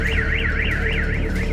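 Car security alarms blare in a city street after explosions during a shelling attack in Russia, a single loud alarm with a fast rising-and-falling warble repeating steadily throughout, with no voices.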